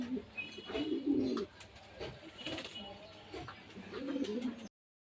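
A pair of Moracel pigeons coo in low, throaty rolling bursts, one near the start and another near the end, with soft chirps and a quiet murmur between them.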